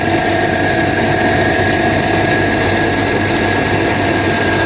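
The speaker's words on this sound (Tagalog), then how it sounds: "So pasensya na kayo, ingay yung motor natin yan." An electric motor of a fish pond filtration system runs nearby, a loud, steady humming drone with a faint whine and vibration, unchanging and alone without talk.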